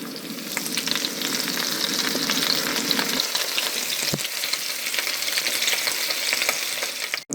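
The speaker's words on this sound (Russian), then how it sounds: "Вытаскиваем котлетки из морозилки и жарим на растительном масле" Meat patties fry in vegetable oil in a pan, a steady, close, crackling sizzle that continues unbroken with scattered pops before cutting off at the end.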